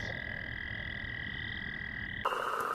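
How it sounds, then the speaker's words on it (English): A tiny frog, about quarter-sized, calls in a spring wetland with a sustained, even clicking trill like marbles tapping together, close and clear for most of the stretch before cutting to a different brief sound. "Another one of our little frogs that make a lot of noise in the spring wetlands."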